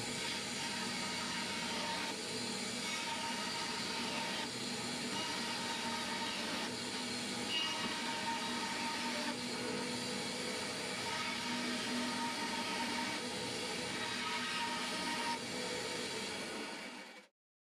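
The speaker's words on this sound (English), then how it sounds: "Running the bandsaw this fast used to make me nervous until I started closing my eyes." A bandsaw mill slices lengthwise through a quartersawn log section, a steady roaring whir of blade and engine that holds level for the whole stretch before cutting off abruptly at the end.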